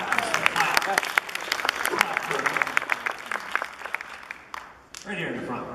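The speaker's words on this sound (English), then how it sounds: "We'll clap." Audience at an anime convention Final Fantasy panel breaks into clapping, sharp scattered claps with cheering and voices mixed in, dipping briefly before a final burst.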